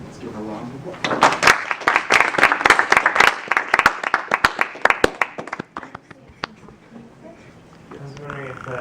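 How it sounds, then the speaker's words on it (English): Student council general assembly members clapping after a vote; applause builds quickly to a brisk burst of sharp claps for several seconds, thins out to scattered claps, then voices take over. "Let's give her a round of applause."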